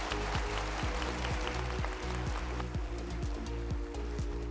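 Applause at an accounting seminar panel on IFRS updates: steady, dense crowd clapping that fills the whole stretch, with a repeating tonal pattern layered over it.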